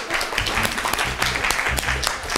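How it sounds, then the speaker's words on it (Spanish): Workshop audience on creativity and innovation applauding, steady clapping over a rhythmic low thumping backing throughout. "un aplauso"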